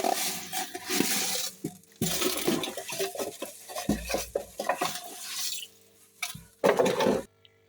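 Water is poured into a fish tank being set up for a channa asiatica red galaxy, with irregular sloshing and splashing bursts nearby that stop abruptly at the end.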